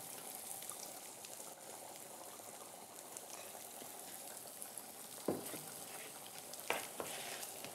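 Garlic and spices fry in oil in a pan while green taro leaves are cooked, giving a steady soft sizzle with a couple of louder stir clatters near the end.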